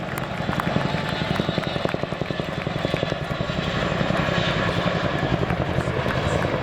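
A 15-ton display aircraft departing backwards at the RAF Cosford air show, a loud, steady rotor and engine drone with a rhythmic pulsing beat, building slightly as it goes.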